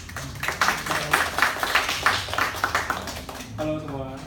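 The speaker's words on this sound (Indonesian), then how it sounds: "Silakan beri tepuk tangan." An audience at an indoor product-photography tutorial event claps briefly, a scattered round of hand claps that fades out after a few seconds, followed by a short electronic tone.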